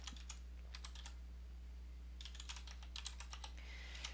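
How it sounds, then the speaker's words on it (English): Keys on a Signum keyboard clatter in two quick bursts of typing separated by a short pause, close and fairly quiet over a steady low electrical hum. "Signum keyboard."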